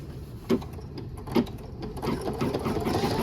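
Embroidery machine stitching down a design: a rapid, even mechanical hum of needle strokes, close and steady, broken by two louder clunks early on before the stitching speeds up.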